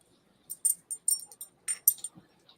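A dog gives a series of short, high-pitched whimpers and whines, about ten quick cries in an uneven rhythm, close and alone against a quiet background.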